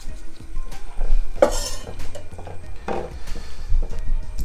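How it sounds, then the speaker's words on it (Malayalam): Cockles being mixed with masala, egg and gram flour in a bowl, with steady scraping, stirring and light clinks of a utensil against the dish, close and continuous. "ആ കടലപ്പൊടിയിൽ നല്ല ഈ പക്കോടയ്ക്കൊക്കെ നമ്മൾ മിക്സ് ചെയ്യുന്ന പോലെ നന്നായിട്ടൊന്ന് ഇതുപോലെ മിക്സ് ചെയ്തെടുക്കുക"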